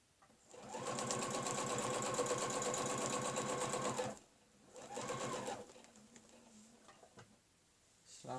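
A sewing machine quilts with a ruler on fabric, running in one long steady burst of rapid needle strokes, then a shorter burst after a pause, with faint handling noises between.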